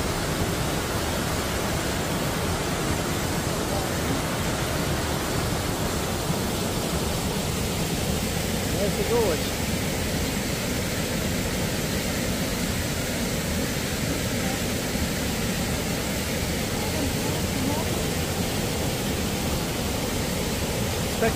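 Steady broadband roar of a waterfall at Galvin's Gorge, a continuous dense rush of falling water that holds unchanged and fairly loud throughout, with no voices.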